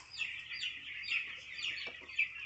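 A flock of young chicks peeps and clucks continuously in a high, bright chorus while being herded out to pasture, moderately loud and without voices.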